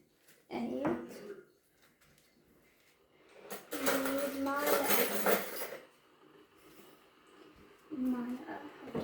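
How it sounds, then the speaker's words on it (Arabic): A small spoon scoops sugar into a cup, making a few light clinks and scrapes, with a person talking between the scoops. "معلقه نحط السكر."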